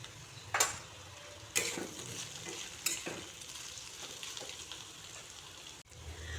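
Sliced radish fries with four slit green chillies in a covered pan over a low flame, a steady soft sizzle broken by a few sharp clatters of a spoon against the pan, with no voices.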